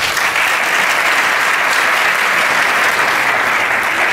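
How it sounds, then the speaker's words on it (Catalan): A theatre crowd at a Christmas concert at Teatre Mundial claps loudly and continuously, a thick unbroken wall of applause filling the hall. "el primer aplaudiment és per tots vosaltres"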